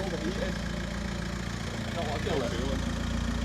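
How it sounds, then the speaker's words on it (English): A Volkswagen Caddy van's engine runs steadily through a handbrake turn, a continuous low mechanical drone with a faint tyre or drivetrain whine rising briefly midway, loud and close throughout. "Got to do a sick handbrake turn now"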